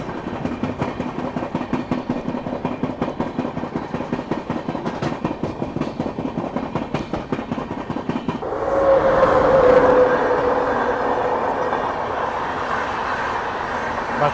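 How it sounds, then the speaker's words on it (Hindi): The Ranchi Rajdhani Express passes close by with steady rhythmic clickety-clack of wheels over rail joints, then a louder rushing swell as more coaches go by, alongside a faint whistle or horn tone. "ये है रांची राजधानी एक्सप्रेस।"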